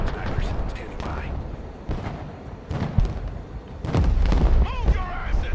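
Rocket artillery fires in a video game battle: heavy booming launches and blasts, the loudest toward the end, rolling under steady radio-style voices.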